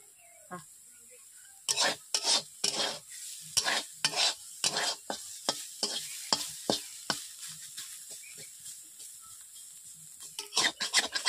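Gima greens stir-fry with chopped onion in a pan, a soft sizzle under a rapid series of sharp scraping strokes from a spatula, close and fairly loud, with a brief pause midway.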